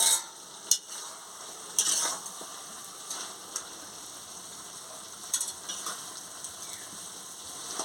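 Jackfruit seed curry with drumsticks stirred in a pan, soft scraping and gentle sizzle with a few sharper clinks of the spoon against the pan, quiet and close, no talking.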